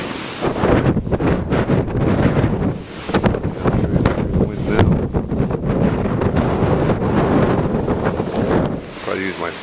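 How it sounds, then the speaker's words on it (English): Strong wind buffets the microphone on an ocean shore with breaking waves, a loud continuous rumbling roar that fills the whole stretch. "Try to use my fat body to shield the wind, but I can't always."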